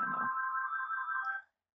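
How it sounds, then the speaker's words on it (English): A phone rings once with a steady electronic two-tone trill lasting over a second, clear and alone after a brief low murmur, then cutting off into silence. "That's the phone."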